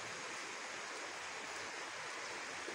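Small mountain stream flowing in Barangay Libas, a steady, even rush of water heard close and continuous, with no voices.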